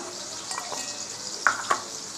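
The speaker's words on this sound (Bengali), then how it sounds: "দেখো আলুগুলো ভাজা হয়ে গেছে, এর থেকে বেশি ভাজবো না" Potatoes frying in oil in a pan give a soft, steady sizzle, with a couple of brief clinks of a utensil against the pan near the end.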